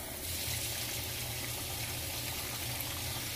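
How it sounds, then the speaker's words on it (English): Water runs in a steady, continuous pour, added to a stove top cleaner mixture, a moderate close trickle-gush lasting several seconds with no talking. "So I'm gonna add a little water."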